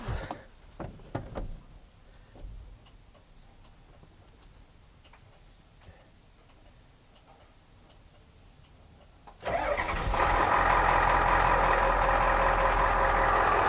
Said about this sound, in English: Diesel truck, got to let the glow plugs heat up.